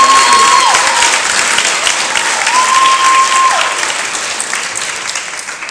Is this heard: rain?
no